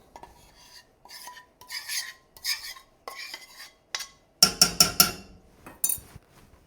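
A roux is stirred in a pan for poutine gravy: close, repeated scraping and rasping strokes of a utensil against the pan, in short uneven bursts with brief pauses and no talking.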